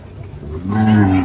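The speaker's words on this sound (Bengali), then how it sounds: "মিডিয়াম সাইজের গরুগুলো যে পাশে।" Cattle low loudly and close by at a busy livestock market, one deep, drawn-out moo swelling over the second half against steady crowd murmur.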